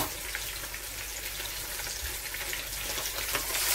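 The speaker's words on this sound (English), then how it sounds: "I'll just seal them in the oil first" Fish sealing in hot oil for a brown stew, giving a loud, steady sizzle and crackle that fills the whole moment without any talk.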